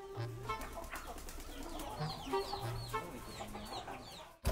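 Cemani chicken, a black Indonesian breed, clucking: several short, close clucks and chirping calls in an uneven rhythm over a soft background hum, ending with a brief loud bump.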